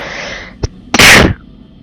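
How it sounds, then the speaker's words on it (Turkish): One person sneezes once, loud and close: a short intake of breath, then a sharp explosive burst that fades quickly to quiet. "Şimdi hapşırık bir kere hapşırdım 3-4 kere hapşırık."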